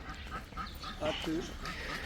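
Ducks quack a few times, brief nasal calls heard amid people talking nearby in an outdoor setting.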